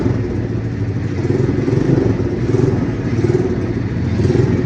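A motorcycle engine fitted with a new exhaust revs repeatedly and rises and falls in pulses, giving a deep, throaty, loud rumble close by.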